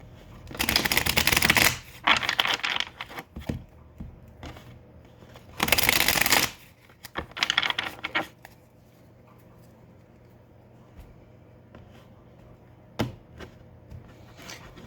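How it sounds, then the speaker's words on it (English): Bursts of tarot cards being riffle-shuffled, three loud flurries in the first half, followed by softer scattered taps and a couple of sharp clicks. "Cards do not want to shuffle for me right now."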